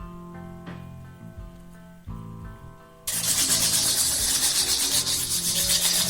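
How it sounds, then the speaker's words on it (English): Sandpaper rubs over a plastic surface being smoothed for a homemade lampshade and lamp holder, producing a loud, steady, close-up scratchy hiss that begins abruptly about halfway through, after a quieter stretch of low droning tones. "me smoothing the surface of the plastic"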